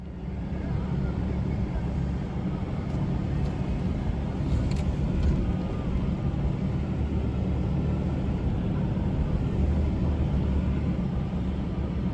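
Car driving along a desert road through a national park, a constant loud low rumble of engine and road noise from inside the vehicle with no breaks.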